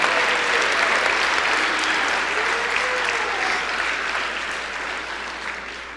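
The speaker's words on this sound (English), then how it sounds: "let's give all those folks a round of applause" Audience at an award ceremony applauding, a dense, sustained wash of many hands clapping that holds steady and then slowly fades over several seconds.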